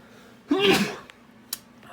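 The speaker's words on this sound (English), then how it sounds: "Sorry, I'm just sneezing when I'm making this video." A single loud sneeze bursts out near the microphone, followed by a couple of faint clicks in an otherwise quiet room.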